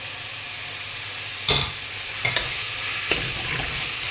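Chopped tomatoes sizzle and fry with sautéed onion in a pan, a steady low crackle broken by a few sharp stirring scrapes, close and moderately loud with no talking.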